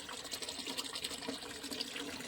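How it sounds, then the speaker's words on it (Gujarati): Steady rushing water pours continuously into a storage tank, a dense, even hiss with no voices. "પાણી ભરાય છે ટાંકીમાં"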